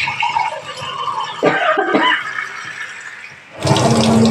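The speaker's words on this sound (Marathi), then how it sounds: "पाणी घेते." Water runs from a tap into a basin in a home kitchen, a splashing gush that starts, pauses, then surges loudly again near the end, with a cough or throat-clear mixed in.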